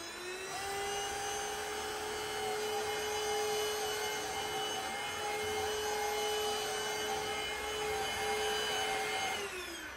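A Prettycare W200 cordless vacuum cleaner runs on a floor with a steady motor whine and broad airflow hiss, close and constant, starting up and winding down at the ends.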